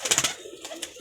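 A zeera pigeon among birds kept for sale coos in a short, close run of soft repeated notes, with a fainter call near the end and no talking.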